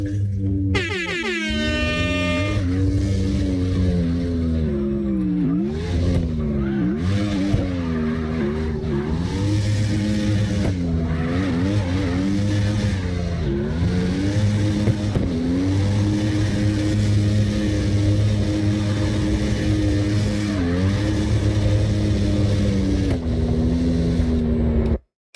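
Drift truck in CarX Drift Racing Online revving hard throughout, a loud sustained engine drone with rising and falling pitch as it slides, a brief horn-like blast at the start and tire squeal mixed in.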